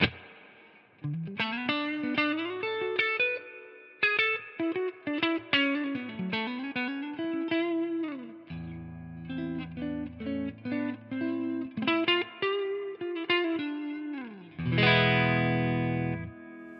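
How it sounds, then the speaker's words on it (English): Electric guitar through an AmpliTube Mesa Boogie Mark IIC+ amp simulator plays a melodic line with chords, notes ringing out with a spacious reverb tail, played alone and fairly close. "And that's the reverb."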